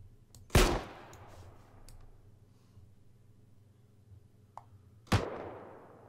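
A grenade launcher fires twice in the IFA3 mod for Arma 3. Each shot is a loud, booming blast with a long fading tail, and the two shots are several seconds apart in a quiet background.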